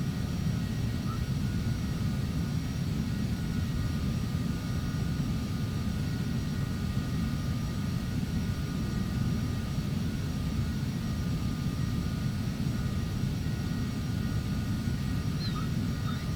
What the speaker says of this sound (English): So we're taxiing down, following Draco.